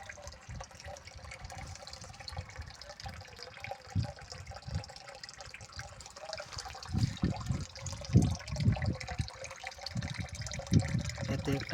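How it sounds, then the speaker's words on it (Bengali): Water from a tube-well tap runs steadily into a bottle, a continuous splashing flow that grows louder and more gurgling toward the end, nearby, with someone speaking at times. "আমি বোতলে জল ভরেছি, দেখুন সিস্টেমটা কেমনভাবে জল পড়ছে।"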